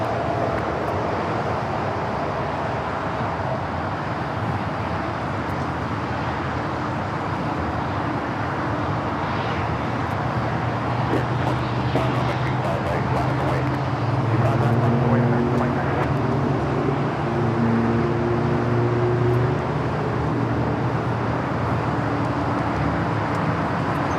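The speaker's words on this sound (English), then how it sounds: "that United 777 just touching down here on the south side" A 29-year-old United Boeing 777 airliner from Newark touching down on the south side at LAX, a broad, distant engine roar swelling and fading against background traffic noise.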